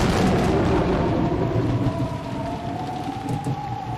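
Thunder rumbling over heavy rain in the visual novel Umineko When They Cry, set outdoors in a downpour: a loud, low roll of thunder fades into a steady hiss of falling rain, with no voices.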